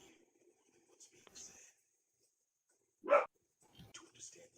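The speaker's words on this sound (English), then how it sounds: "Someone's dog is not having it today." A single dog bark sounds from a short distance in a quiet room, with soft speech and small noises before and after it.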